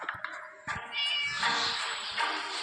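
A cat meows repeatedly and fairly loudly up close, with drawn-out, whiny cries running almost continuously, no talking over them.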